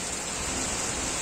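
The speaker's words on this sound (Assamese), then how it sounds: "ৰাজ্যৰ বিভিন্ন প্ৰান্তত ইতিমধ্যে আৰম্ভ হৈছে ধাৰাখাৰ বৰষুণ" Heavy rain during a storm in Assam, a steady, dense hiss of downpour that stays even and continuous throughout, with no voices.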